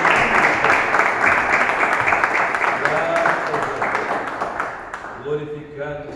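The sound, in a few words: congregation applause in church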